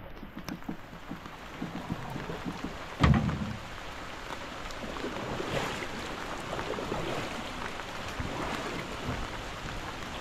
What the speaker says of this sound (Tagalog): Lumakas pa lalo ang ulan.